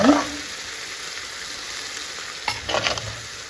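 Food sizzles softly in a hot pan, a constant faint crackle, with a few louder stirring scrapes near the end.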